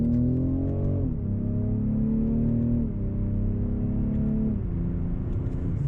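A 2022 BMW X6 xDrive40i M Sport accelerates hard in second gear, its engine note climbing steadily with brief dips at each shift point, loud and close with no talking.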